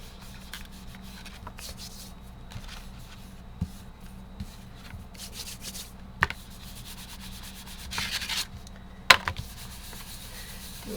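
Dry rubbing and burnishing across the back of a paper folio card, a quiet close scratchy texture with a few sharper scrapes and brief louder swipes, no talking.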